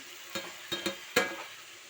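Tomato, garlic-ginger paste, coriander and broad beans go into a frying pan, making three or four soft clatters and stirring scrapes over a faint, low sizzle.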